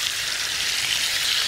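Potatoes frying together with lamb chops in a pan give off a steady, close hissing sizzle that runs without pause.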